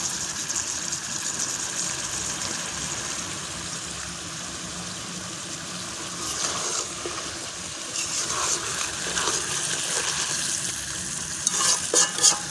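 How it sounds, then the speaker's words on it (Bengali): Fresh tengra and shing fish curry sizzles steadily in a karahi as it is sautéed and stirred, with a continuous frying hiss and occasional scraping of the spoon, close and alone. "ঢাকনাটা উঠে আমি একটু কষাচ্ছি।"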